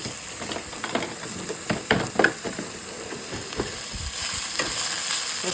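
Sausage sautéing in a pan, a steady close sizzle overlaid with repeated scraping and stirring strokes of a utensil, louder and denser toward the end, with no talking.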